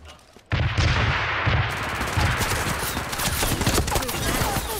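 Rapid submachine gun fire in the mecha battle game Super Mecha Champions, dense continuous bursts starting abruptly and rattling close and loud for several seconds with busy game noise around it.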